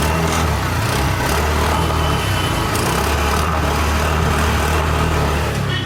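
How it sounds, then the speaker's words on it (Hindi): A Honda Activa 110 base-model scooter idles just after a self-start, its engine giving a steady, even hum with rattly noise close to the mic and no pauses. "गाड़ी स्टार्ट हो गई है, एक बार साउंड सुन लेते हैं"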